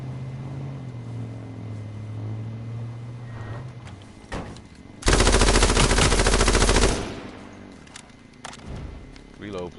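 Gunfire in the battle royale game H1Z1 on PS4: after a vehicle-like drone, one long, loud burst of rapid automatic shots, then scattered quieter shots and game noise with a voice talking.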